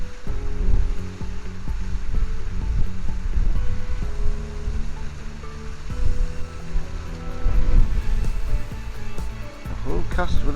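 Gusty wind at a fishery buffets the microphone in a loud, continuous, rumbling wash that rises and falls, with a voice breaking through at times.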